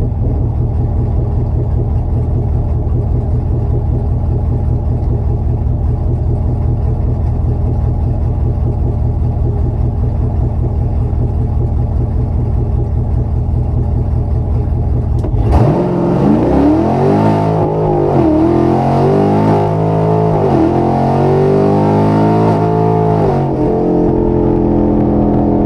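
Car at a drag strip left in drive, a loud steady idle rumble that suddenly launches into hard acceleration with engine revs climbing through shifts, no talking.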